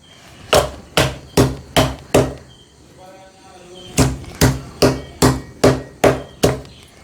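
Thick-skinned mango is pounded with a crushing tool in a home kitchen: five loud, close, evenly spaced thuds, then a pause with a brief voice, then seven more strikes in the same steady rhythm.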